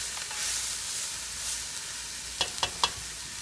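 Walnuts with onion powder sauté in a pan, giving a soft, steady sizzle with faint hiss, then a few brief, crisp ticks and pops near the end.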